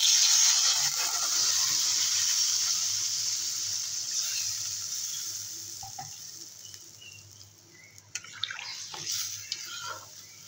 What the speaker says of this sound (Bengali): আর একটু ঝোল দিয়ে দেবো।